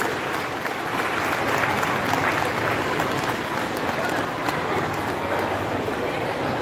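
An audience at a temple kirtan gathering applauds loudly and continuously, a dense sustained wash of clapping filling the whole stretch.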